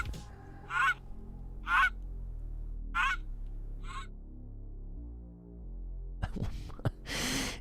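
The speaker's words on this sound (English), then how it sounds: "Sorcerer had the gall to send me a goose." A goose in the New World game honks in four loud, evenly spaced calls close by. A few sharp rustling and clattering sounds follow.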